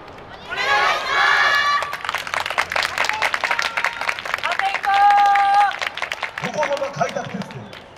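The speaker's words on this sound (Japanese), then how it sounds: "ご声援お手拍子よろしくお願いします" A festival crowd claps along and cheers for a Yosakoi dance team performing at the Dream Yosakoi Festival 2023 Fuji TV venue, rhythmic clapping under an announcer's voice and a whistle, with a brief tone near the middle.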